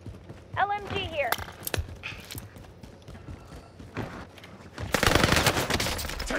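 Light machine gun fire sounds in Call of Duty: Modern Warfare, with sustained rapid bursts near the end following scattered shots and game effects, while a voice speaks.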